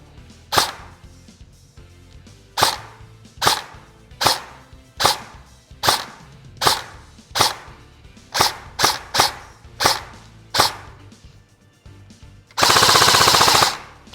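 E&L AK 74M airsoft rifle firing close by: a dozen or so sharp single shots at uneven intervals, some in quick pairs, ending in a loud sustained full-auto burst of about a second and a half, with no voices.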